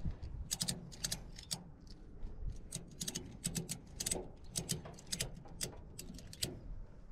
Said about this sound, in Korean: 구멍에 벨트를 끼워주고 라쳇 손잡이를 잡고 상하로 움직여주면